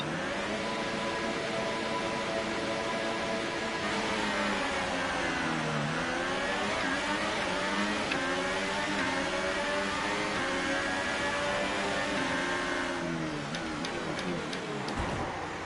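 Formula 1 car engine in the F1 2018 video game held at full revs, a loud high-pitched whine that swoops down in pitch and climbs back steadily, with no talking.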